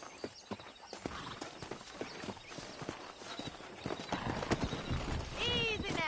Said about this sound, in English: That ranch hand said there's a pack of wild horses nearby.